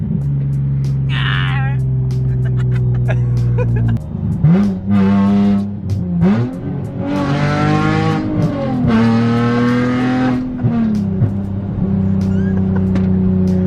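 A car's loud exhaust drones and rumbles from inside while driving, rising and falling with acceleration, with voices talking over it.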